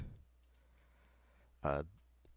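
A computer mouse gives a few faint, sharp clicks in a quiet room, with a brief burst of a voice speaking in between.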